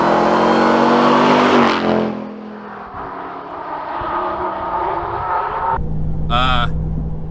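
A RAM TRX truck engine roars loudly under acceleration while driving, surging in a deep sustained rumble, dipping briefly, then climbing again toward a higher-pitched rev near the end.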